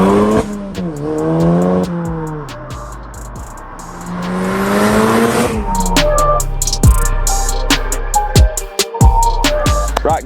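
Audi S1 Stage 3 hatchback driven hard, its engine revving up and dropping through gear changes, then tyres squealing and clattering bumps as it corners fast, loud and close throughout.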